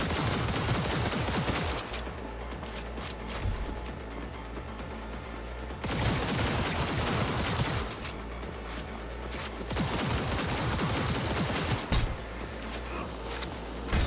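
Sustained automatic gunfire in the video game Cyberpunk 2077, long rapid bursts broken by short pauses, loud and close, with almost no talking.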